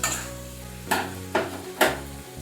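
Fried potatoes are stirred into a simmering vegetarian jackfruit curry masala, with a continuous soft sizzle broken by three sharp scraping strokes of a spoon against the pan.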